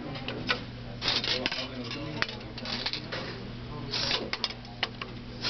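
A VEX robot materials sorter runs with a steady mechanical hum, rattling and clicking as it sorts marbles, with scattered sharp clinks throughout and voices talking in the background.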